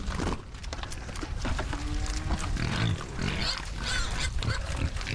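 Pigs grunt and squeal on a Danish farm, a dense, noisy mix of rough grunts and snuffling that stays loud and close the whole time, with no talking.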